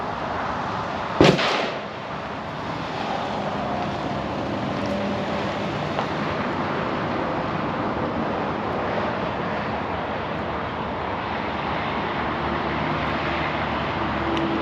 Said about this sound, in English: we're fixing to shoot it for the first time, so I'm gonna load it up and go shoot it